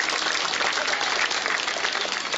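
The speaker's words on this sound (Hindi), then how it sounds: "एक बार जोरदार तालियां फिर अमित मालवीय" Loud, dense applause from a large crowd at a political rally on the Jhuggi Samman Yatra, a steady unbroken roar of clapping that fills the whole moment.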